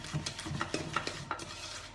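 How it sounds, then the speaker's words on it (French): A wooden spoon stirs cake batter in a bowl, giving a few soft, close knocks and scrapes in an uneven rhythm at low volume. "Avec une cuillère à bois, vous remuez."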